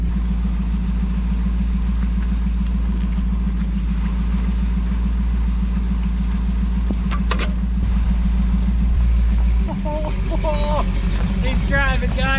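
A 1977 Chevrolet 4x4 truck engine idles and runs with a loud, steady low drone and a buzzing mid tone, shifting near the end as the truck starts moving, while a person talks over it.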